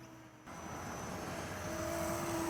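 A micro RC jet flies slow, nose-high circles overhead, its small electric fan giving a steady whine that rises gradually in loudness and pitch without any talking.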